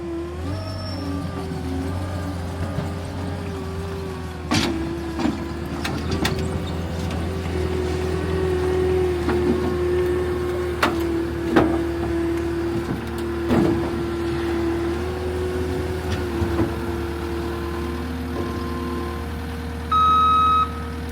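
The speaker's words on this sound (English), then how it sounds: "Put your ramps down, then you're good to load up the skid steer." Skid steer engine running steadily while it loads onto trailer ramps, with a constant drone, occasional clanks and knocks, and a short beep near the end.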